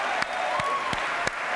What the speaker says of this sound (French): Mesdames, messieurs, applaudissements pour cet artiste bulliste.